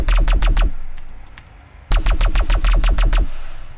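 Punchy, bright synth lead notes pulse in a fast rhythmic pattern in a rave and jungle-inspired dubstep style, with a washy sidechained reverb tail swelling between hits and a short gap before the pattern resumes.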